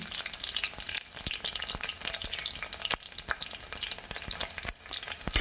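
Chopped garlic cloves fry in a cumin tempering for spiced buttermilk, crackling and sputtering continuously at close range with dense popping bursts and no voices.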